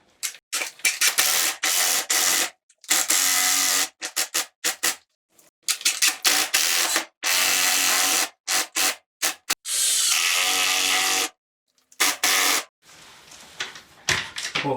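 Power drill driving screws into tile backer board around a bathroom window, loud close bursts of high whirring that start and stop repeatedly as the trigger is feathered, separated by brief silences.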